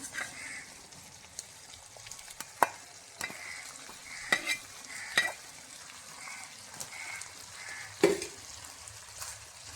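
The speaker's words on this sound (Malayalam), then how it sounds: "ഇനി നമുക്കിതിലേക്ക് കടുക് വറുത്തത് ഇട്ട് കൊടുക്കാം" Fried mustard seeds are stirred into a Kerala theeyal made without roasted coconut: a spoon scrapes and knocks against the pot in scattered sharp clinks over a soft, steady frying sizzle, with no talking.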